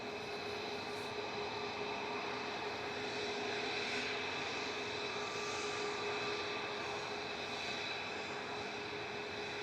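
An easyJet airliner departs from Manchester Airport, its engine roar a broad, steady rumble heard from a distance. The sound holds fairly faint and even without pause.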